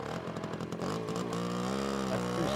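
A 1973 Tomos APN 4 moped's small two-stroke engine revs and idles steadily nearby, a buzzy, raspy drone that rises briefly in pitch.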